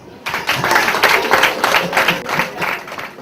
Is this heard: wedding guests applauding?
yes